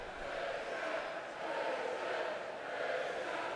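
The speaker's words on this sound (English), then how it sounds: "Got some WCW fans in the building cheering for Christian." Crowd of wrestling fans cheering in a WWE video game arena, a steady roar of cheers that swells and dips over a few seconds with no clear break.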